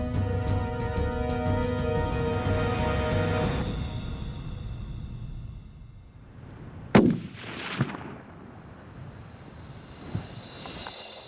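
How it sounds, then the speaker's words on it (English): A hunting rifle fires once at a Montana mule deer, a sharp loud crack about midway that rolls off into echo, followed by a couple of fainter knocks from cycling the action in open country. "I squeeze the shot off, it hits off to the side"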